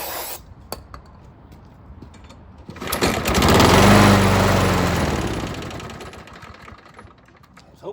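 An old, free lawn mower engine sputters, catches and runs rough, rising to a steady loud drone for a couple of seconds before fading back down, with faint handling noises before and after.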